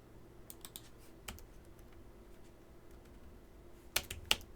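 Quiet computer keyboard typing while entering network router configuration commands, with scattered soft keystrokes and a couple of sharper key taps near the end.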